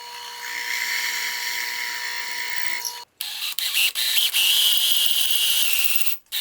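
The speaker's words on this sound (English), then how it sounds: "I'm just going to drill that out quick and then drill the other part" A power drill bores out a dowel hole in a wooden stand, whining loud and steady close by, with two brief stops where the trigger is released.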